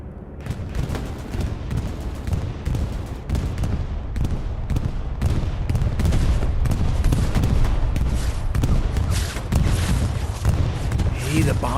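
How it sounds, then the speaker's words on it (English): Bombing-run explosions in Hell Let Loose rumble on continuously as dense, booming blasts mixed with scattered gunfire, loud and sustained from start to finish, with a voice talking over the barrage. "The bombing run goes through."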